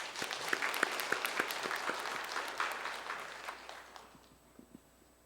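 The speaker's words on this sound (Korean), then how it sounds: "우리 격려의 박수 해주세요." A church congregation at a Sunday service applauds the choir with dense, lively clapping from many hands in a large room, loud at first and then thinning and fading toward the end.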